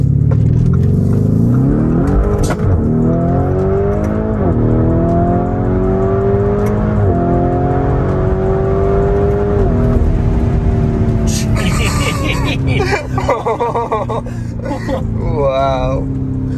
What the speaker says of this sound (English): Opportunity to see just how fast the Urus is.